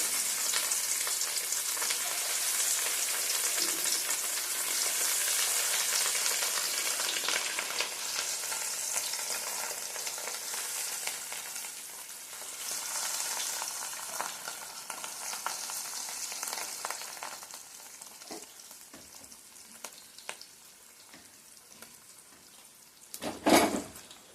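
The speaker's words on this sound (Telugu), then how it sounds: "ముక్కలు లైట్ ఫ్రై చేసుకుందాం" Fish pieces fry lightly in hot oil with a steady, loud, close sizzle that continues throughout and softens somewhat toward the end, followed by a brief clatter.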